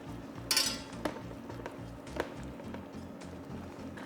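A spoon stirs cuttlefish-ink risotto with vegetable broth in a pan, giving soft scrapes and a few clinks of utensil on metal, with a brighter clatter early on and lighter taps after.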